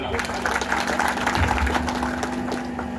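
Steady, dense applause from an audience at a swearing-in ceremony for a trade association leader, a continuous wash of clapping heard fairly close with a voice speaking over it.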